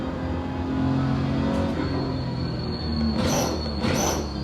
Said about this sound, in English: Oh, I love how you can hear the brakes.